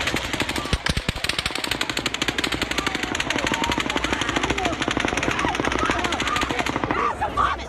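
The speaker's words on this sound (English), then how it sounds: "But then, a sixth burst of fire." Rapid automatic gunfire from the Las Vegas concert shooting, a long sustained burst of fast, evenly spaced shots, loud and continuous before tapering off near the end, with faint voices beneath.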